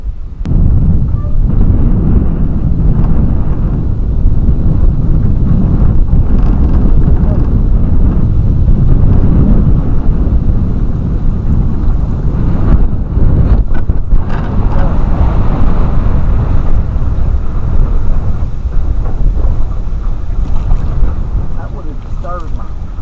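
Strong wind buffets the microphone in a constant roar outdoors on Lake Guntersville, with low rumbling gusts throughout.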